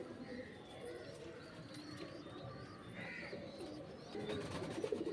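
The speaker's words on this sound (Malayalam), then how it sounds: "ഇതൊക്കെ നമ്മുടെ ഇവിടുത്തെ ഓൺ ബ്രീഡിങ്ങിലുള്ള പ്രാവുകളാണ്" Domestic breeding pigeons kept for sale in a loft in Thiruvananthapuram coo softly in repeated low calls over a murmuring background hum.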